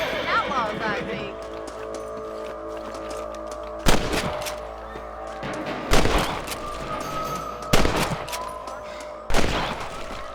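Gunshots in the video game Red Dead Redemption: four sharp, loud cracks spaced a couple of seconds apart, ringing over steady game ambience while someone talks.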